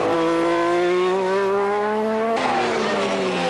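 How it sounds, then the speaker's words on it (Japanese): A race car screams around a speedway at full throttle, its loud engine note steady and rising, then dropping sharply in pitch as it shifts or passes close by, with no talk. "依然快調に飛ばすサックエル、今や独走状態でスピードウェイを攻めていく。"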